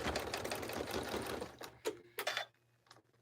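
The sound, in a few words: sewing machine stitching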